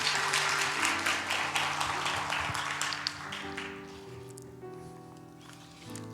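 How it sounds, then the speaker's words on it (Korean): Audience applause at a church discipleship-class graduation service, dense and steady at first, then thinning out and fading, with musical tones sustained underneath. "이창훈 집사님께도 큰 박수 부탁드립니다"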